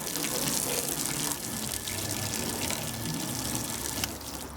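Water pours steadily off waxed car paint onto the ground, a continuous loud splashing gush with no pauses that eases slightly near the end.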